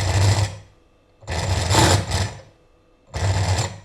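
Two brushless motors wired to a single ESC try to start, producing three separate bursts of rough, stuttering buzzing, each lasting under a second and broken by short silences.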